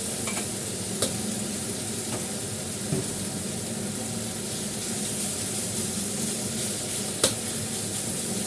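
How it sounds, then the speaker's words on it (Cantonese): Chicken pieces with garlic and black beans sizzle and crackle steadily in a hot wok while being pan-fried for pepper chicken noodles, a continuous close hiss with occasional sharp pops. "兩邊煎一煎啲雞"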